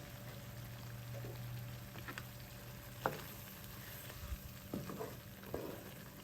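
Sambal for nasi lemak frying in a pan with a steady soft sizzle, broken by a few brief clinks and scrapes of stirring, fairly quiet and close with no talk.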